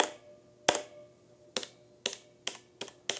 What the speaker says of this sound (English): you can kind of hear that spring, or that the switch is jumping back.